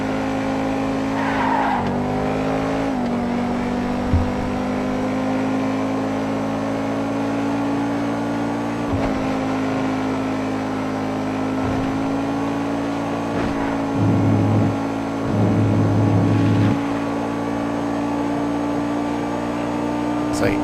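Pegassi Osiris supercar in GTA Online driving with a steady engine drone, its rear tires repeatedly squealing and skidding through corners, with brief bursts of extra tire noise along the way.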